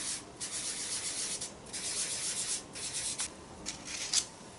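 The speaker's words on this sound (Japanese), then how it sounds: "茶こしで削って粉にして塗っていきます。" Dry pastel stick scraped against a tea strainer to grind it into powder, a close, gritty rasping in repeated strokes of about half a second with brief gaps, fairly quiet and alone.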